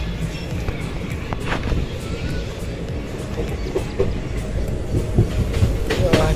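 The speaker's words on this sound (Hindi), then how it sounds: "ट्रेन निकल चुकी है हजारीबाग रोड से।" Kosi Super Express passenger train rolling along after leaving Hazaribagh Road station, with a steady low rumble and occasional clacks heard from inside the coach, continuous and fairly loud, with faint voices underneath.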